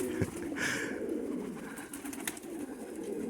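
Soft, low pigeon coos roll on continuously nearby at a pigeon loft, with a few faint higher chirps and rustles over the top; no voices.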